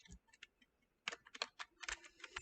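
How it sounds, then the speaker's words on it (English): Typing on a computer keyboard while installing and trying out a font, heard as a quiet scatter of light key clicks, a few isolated taps followed by a denser run of keystrokes with no talking. "I can double click on my T and I can start typing."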